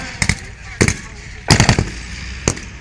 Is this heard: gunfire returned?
yes